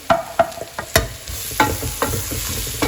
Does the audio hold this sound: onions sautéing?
yes